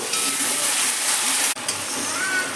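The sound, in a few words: water added to frying masala, sizzling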